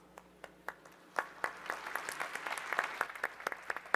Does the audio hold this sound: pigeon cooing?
no